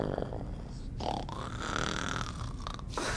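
A voice imitates a pig-like snore: close, rough grunting snorts repeated over about three seconds, loud and alone.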